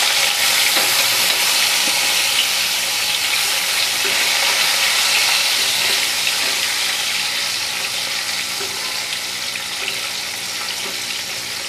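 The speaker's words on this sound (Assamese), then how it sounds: "এতিয়া ইয়াতে মাছেই দি দিম মই মাছখিনি গোটেইখিনি" Rohu fish pieces frying in hot oil in a pan on a gas flame, a steady loud sizzle with crackling and spattering that runs continuously and alone, easing slightly toward the end.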